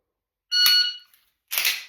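A short electronic shot timer beep at a shooting practice, followed a moment later by a sharp gunshot crack; both close and loud.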